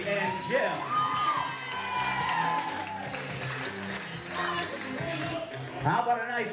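Wedding reception crowd cheering, whooping and shouting at an inn in West Warwick, Rhode Island, a loud continuous roar of voices with bursts of yells throughout.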